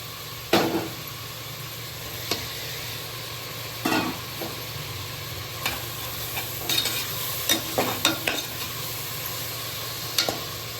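Tomatoes frying in coconut oil with ginger and garlic, a continuous close sizzle broken by repeated scraping and clattering stirs of a spoon in the pan, with no voices.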